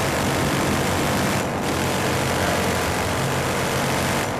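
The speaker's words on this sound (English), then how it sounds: "Look out, attack chopper!" An attack helicopter in the video game Battlefield Hardline roars loudly overhead with dense, steady rotor and engine noise, briefly dipping and returning.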